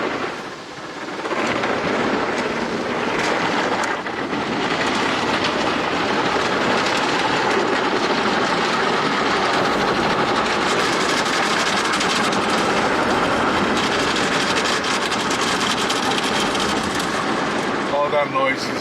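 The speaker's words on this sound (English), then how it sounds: "All that noise is all the brushes" Car wash brushes scrub a car as heard from inside it during a longer wash cycle, a steady loud rumbling, swishing roar that continues throughout with no pauses.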